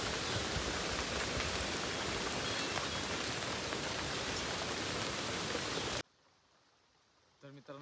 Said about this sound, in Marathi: आता अर್ध्या तासात आलो की पाऊस लागला